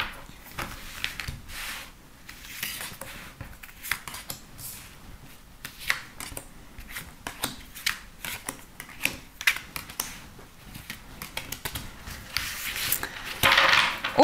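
Tarot cards shuffled and drawn by hand at close range, a steady run of soft riffling, rubbing and sharp flicking snaps with no voices.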